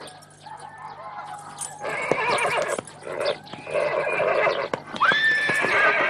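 A horse whinnies loudly and repeatedly up close, with hooves clip-clopping beneath the calls in an outdoor setting.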